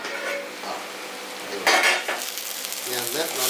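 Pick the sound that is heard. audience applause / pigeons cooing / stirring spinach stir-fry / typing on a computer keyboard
stirring spinach stir-fry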